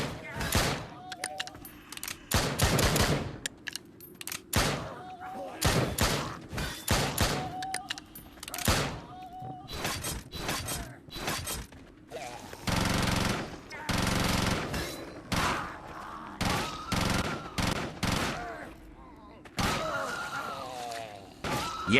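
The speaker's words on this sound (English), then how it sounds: "Yes, we are done with the second Gatling gun." Long bursts of rapid Gatling gun fire in a video game rattle on and off in quick succession, loud and dense, with brief gaps between volleys.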